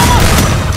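Dense, loud bursts of gunfire from the Free Fire video game, a short overlapping barrage of booming shots crowding the whole moment.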